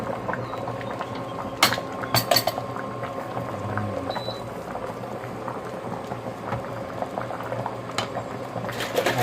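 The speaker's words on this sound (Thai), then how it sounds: "เดี๋ยวเราเริ่มปรุงกันแล้วครับเยเดือดปุ๊บปุ๊บปุ๊บ" Isan-style mixed mushroom curry broth at a steady rolling boil in a pot, with dense bubbling and popping throughout and a few sharper pops standing out near the start, fairly close.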